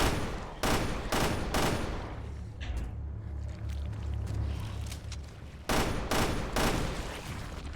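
Gunfire in the video game Resident Evil Revelations 2: bursts of loud shots at the start and again near the end, with a steady rumbling game soundscape between them and no talk.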